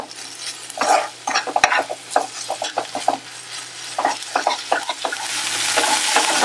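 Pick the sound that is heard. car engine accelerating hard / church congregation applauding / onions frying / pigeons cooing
onions frying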